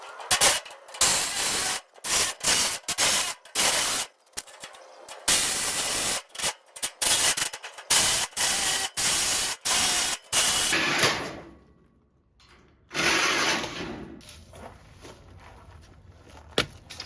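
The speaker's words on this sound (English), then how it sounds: "got our metal blade on the Ryobi. I think I'm gonna cut here, a piece of wood, and a hinge." A Ryobi power saw fitted with a metal-cutting blade cuts through wood and a hinge, sounding as loud rasping bursts that start and stop repeatedly before a brief quieter pause and a final longer cut.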